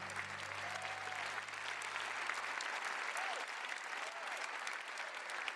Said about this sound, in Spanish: ¿podríamos darle un aplauso a Jesús?